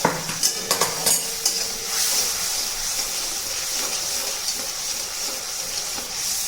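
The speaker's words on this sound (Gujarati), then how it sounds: "હવે આપણે આ મસાલો સરસ શેકાવા દેવાનો છે" Spice masala roasts and sizzles in oil for radish greens cooked with gram flour, steady frying hiss up close, with a few sharp spoon-against-pan clicks at the start.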